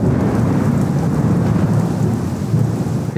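Steady heavy rain with low thunder rumbling underneath, loud and close throughout, a constant wash of noise with no voices.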